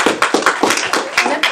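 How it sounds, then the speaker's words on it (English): Applause for a team at a women's hackathon presentation, close, loud hand claps in a quick regular rhythm of about eight claps in under two seconds, no talk. "Let's give a round of applause for Binary Blossoms."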